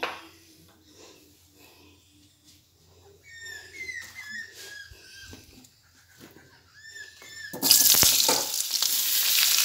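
Chopped potatoes poured into hot oil in a pan burst into a loud, hissing sizzle near the end, after a quieter stretch of scattered bird chirps and animal calls.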